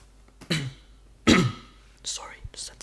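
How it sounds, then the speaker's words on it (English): A person clears their throat twice with rough, guttural rasps, followed by a faint breathy sound, close and otherwise quiet. "Sorry, just had to clear my throat."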